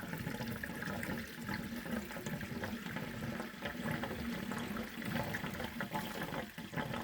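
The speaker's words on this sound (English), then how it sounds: "then the system will drain into the bucket." Water draining from an Eccotemp 45 natural gas tankless water heater through tubes into a bucket, a soft continuous trickle and splash, faint and steady throughout.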